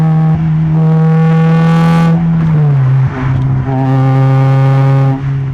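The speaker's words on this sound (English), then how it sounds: "the exhaust is so loud that I can pass cars and you only hear the exhaust sound" A loud, throaty car exhaust drones and rises through gear changes, the engine note climbing, dropping, and climbing again at close range.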